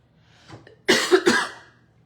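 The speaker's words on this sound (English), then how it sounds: "I do not know why I'm coughing." Two or three sharp, harsh coughs in quick succession, close up, preceded by a faint throat sound.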